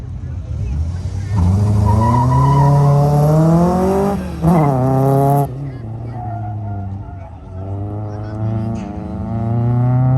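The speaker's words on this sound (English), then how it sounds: "Really driving it hard around the sweeper into the slalom." An autocross race car thrashed around a sweeper and into a slalom, its engine revving high and swinging up and down in pitch with sharp lifts and bursts, loud and continuous, with a voice talking over it.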